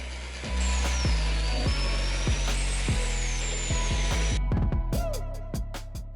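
A power drill bores holes for screws during stretch-ceiling installation, whining loudly and steadily with rhythmic ratcheting clicks, then stopping, after which a few sharp taps and knocks follow.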